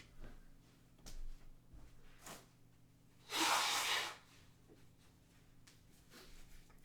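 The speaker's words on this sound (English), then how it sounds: "I need to blow my nose." A single loud, forceful nose blow of about a second stands out from quiet room noise, surrounded by soft sniffs and breathing.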